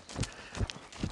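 Three faint, evenly spaced hoofbeats from a ridden horse schooling on the centre line in a shoulder-in exercise, soft thuds at a steady walking rhythm.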